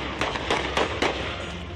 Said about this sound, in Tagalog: umalingaw-ngaw ang sunod-sunod na putok ng baril